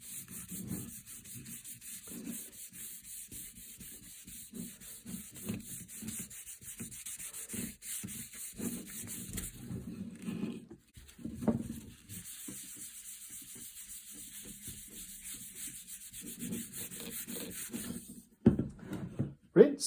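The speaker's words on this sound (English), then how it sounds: "I want to burnish it off with wire wool" Wire wool rubbed by hand over a wooden Beretta 690 shotgun stock makes soft, repeated scratchy strokes in an uneven rhythm, close and fairly quiet, pausing briefly now and then.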